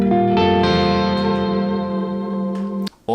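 A minor 9 chord with an added 11th rings out on guitar through effects with echo and reverb, notes sounding in quick succession then sustaining and slowly decaying before a brief break near the end.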